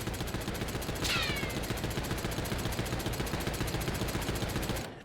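Sustained automatic fire from the Tanto gun in Warzone rattles in a fast, regular stream of shots, loud and close, stopping abruptly near the end.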